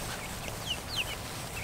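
Chickens cluck softly in a couple of brief, faint calls near the middle, set against steady low background noise with no talking.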